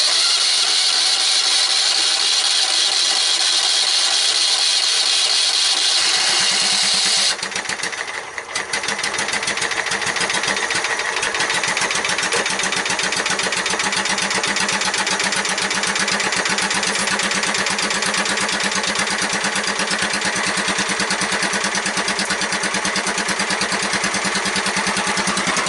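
A dragster engine cold-starts early in the morning, catching after a few seconds and settling into a loud, rapid, buzzing idle that runs steadily and close by.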